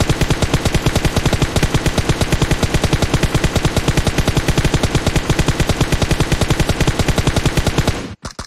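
Automatic gunfire in the mobile battle royale game PUBG Mobile, a continuous rapid stream of loud shots lasting about eight seconds before cutting off abruptly.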